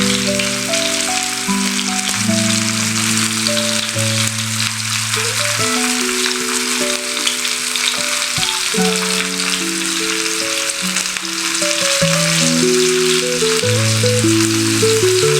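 Bangda mackerel frying in a pan gives a loud, continuous crackling sizzle with dense spitting pops, steady and close throughout, with a layer of tonal background music.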